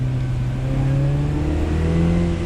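Mini Cooper JCW Convertible engine in sports mode revving hard, a loud steady drone with rising and falling pitch as the throttle opens, heard close and continuous with no talk.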